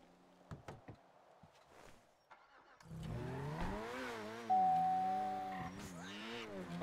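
A car engine in GTA V, just repaired in a roleplay session, starts and revs, with rising and falling harmonic engine tones and a steady drone after a few quieter clicks and knocks.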